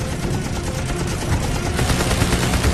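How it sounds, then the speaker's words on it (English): A WWII Hellcat fighter's machine guns rattle in a dense continuous burst on a strafing run against a Japanese cruiser, loud and close, the rapid firing growing slightly heavier toward the end. "He pulls out on a strafing run on a Japanese cruiser."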